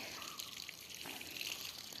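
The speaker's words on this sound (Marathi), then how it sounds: "म्हटलं झाडांना पाणी घालूया उन्हाच्या आधी" Water poured onto young cashew saplings at a rural Ratnagiri home in the morning, a brief, faint, steady splashing trickle heard alone.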